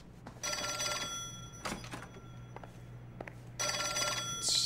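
Repeated rings from a telephone in the LA Noire video game, a bright bell pattern in two long bursts separated by a pause, with a few soft knocks in between over a steady low hum.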